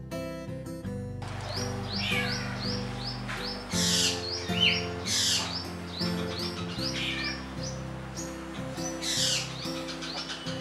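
A black drongo (Dicrurus macrocercus) gives a run of varied calls, mimicking a cat among sharp chirps and whistled notes, fairly close and clear over a steady background hum, with no talk.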